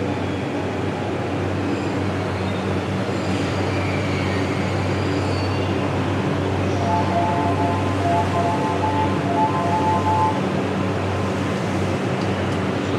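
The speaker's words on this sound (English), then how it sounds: "I'm just here to show you what it looks like when the train arrives," A train pulls in at a platform of Ueno Station in Japan, a steady loud rumble and rolling hiss with brief higher squeals from the wheels and brakes midway, continuous throughout without speech.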